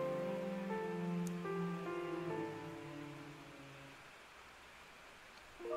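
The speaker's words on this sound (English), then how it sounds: "I was left alone in the room, accompanied by the rain" Soft, steady rain falls at night in a video game, a faint hiss beneath a gentle sustained musical tone that fades away before a new note rises.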